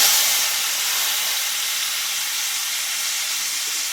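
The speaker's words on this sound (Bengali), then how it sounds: "এবার সেদ্ধ করে রাখা পেঁপের আলুটা আমি দিয়ে দেবো" Boiled papaya and potato pieces dropped into hot oil with a tempering of slit green chillies hiss and sizzle steadily and loudly, a broad continuous fry with no talk over it.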